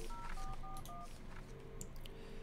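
A rapid string of touch-tone keypad beeps as a phone is dialed in a video game, several short evenly paced tones heard close over a faint steady hum.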